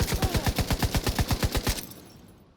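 Rapid automatic gunfire from a deployed turret in Tom Clancy's The Division 2, a burst of about fourteen evenly spaced shots in quick succession, loud and close, cutting off and fading into a quiet tail, with no talking.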